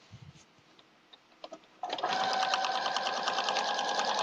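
A sewing machine sews a log cabin quilt seam: a few soft clicks and handling noises come first, then a steady, close stitching whir starts and keeps running.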